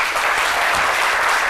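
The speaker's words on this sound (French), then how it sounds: "ça s'applaudit" An audience claps loudly and steadily for a brief moment, a dense, close burst of many hands with no voices over it.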